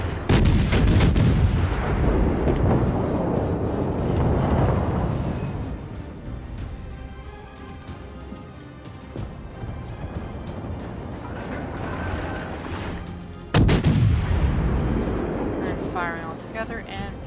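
Warship main guns fire salvos in the naval video game World of Warships, a heavy booming volley at the start and another sudden loud salvo later, with rumbling ship ambience between and players talking.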